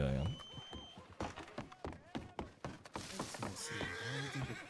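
A horse whinnies in Red Dead roleplay, then hooves clip-clop and other video game sounds follow, fairly quiet and busy in the background.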